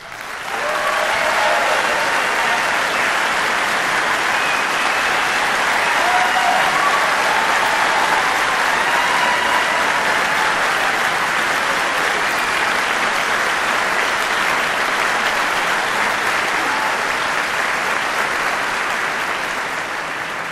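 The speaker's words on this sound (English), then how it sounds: "Please hold your applause until all are announced." Sustained, loud applause from an audience at an awards ceremony as the judges stand to be acknowledged, a dense continuous clapping that swells in and holds steady before tapering slightly at the end.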